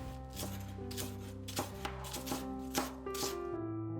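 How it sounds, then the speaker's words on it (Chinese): A knife shreds ginger and scallion into thin strips for stir-fried duck gizzards with sour long beans, giving a run of quick, even chopping taps under steady background music. "再把姜切成丝，大葱切丝"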